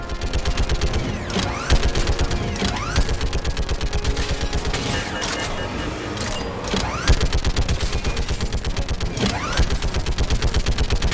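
A Mass Effect Legendary Edition battle erupts with sustained rapid automatic gunfire, a dense, loud, rhythmic stream of shots with mechanical clatter and occasional heavier impacts running throughout.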